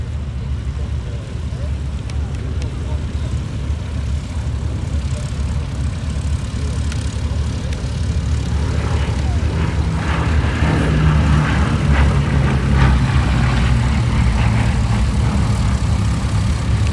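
A Bristol Blenheim propeller aircraft flies at the IWM Duxford D-Day anniversary airshow, its steady engine drone rising slightly toward the end, with a commentator talking over it throughout.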